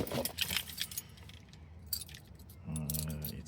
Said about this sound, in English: So let's get the keys in ready.